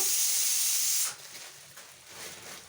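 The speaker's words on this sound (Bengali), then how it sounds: "শাক দিয়ে বড়ি দিয়ে করবো বলে দুটো বড়ি ভেজে নেব।" Lentil bori dumplings go into hot oil with a loud hiss that fades after about a second into a softer, uneven bubbling sizzle.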